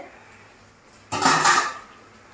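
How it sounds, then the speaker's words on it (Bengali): A metal lid is lifted off a cooking pot of mixed vegetables with fish head, making one short clattering scrape against the rim in an otherwise quiet kitchen. "এবার আমি ঢাকনাটাকে তুলে নিচ্ছি, একটু গরম আছে।"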